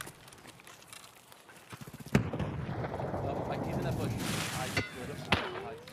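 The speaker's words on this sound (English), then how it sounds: "I'm throwing nades." Grenades thrown and exploding in Escape from Tarkov on the Customs map near the dorms, a few sharp blasts with rumbling decay following a stretch of footsteps and movement, with voices talking over the action.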